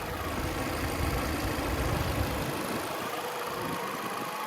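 A 2017 Chevy Cruze LT's 1.4-liter turbocharged four-cylinder idles under the open hood, a steady close hum with a low rumble that thins out after about two and a half seconds.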